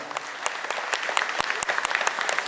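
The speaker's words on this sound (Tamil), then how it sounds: "எல்லாம் ஒரு வாட்டி நல்லா கைத்தட்டி ஒருத்தர் வாழ்த்துப்போம்." An audience at a church feast clapping together, a dense, steady patter of many hands with a few sharper individual claps standing out near and clear.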